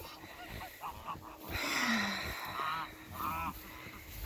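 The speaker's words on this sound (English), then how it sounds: "Hey, geese." Geese honk several times nearby, harsh nasal calls rising and falling in a loose cluster over faint background noise.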